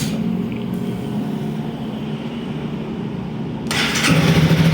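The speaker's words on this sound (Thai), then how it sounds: "เดี๋ยวลองมาสตาร์ทกันดีกว่าครับ" A 2018 Honda CB300R motorcycle with a new battery starts on the first try. A quiet stretch gives way to a short crank, then the engine catches and idles loudly close by.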